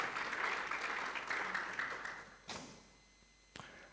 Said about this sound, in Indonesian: Berikanlah tepuk tangan bagi Tuhan Yesus.